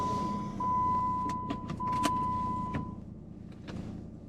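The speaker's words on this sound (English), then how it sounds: "All right, made it back to my vehicle." Someone gets back into a parked vehicle: a run of close clicks, knocks and a brief electric whine of a power window or motor, over a low idle-like hum, with no talking.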